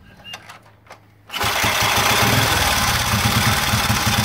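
Vintage 1926 BSA B26 round-tank 250cc single-cylinder motorcycle engine bursting into a loud, steady rev under throttle after a brief quiet moment, holding a continuous buzzing drone close by with no talking.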